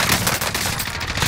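Sustained automatic gunfire in Warzone, a dense rapid burst of shots filling the moment, loud and close with no talk over it.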